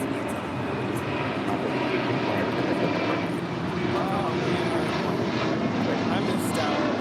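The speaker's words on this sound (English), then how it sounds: "the 767 now rolling down at 25 right" A Boeing 767 cargo jet rolls for takeoff on runway 25 right at LAX, a continuous broad engine roar holding steady throughout, with radio chatter heard beneath it.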